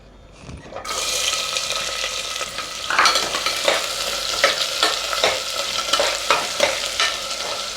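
Sliced onions sautéing in hot oil with bay leaf, cloves, cinnamon and cardamom for mutton paya, a loud close sizzle starting abruptly and holding steady, broken by scraping stir strokes and spatula knocks, with no voices.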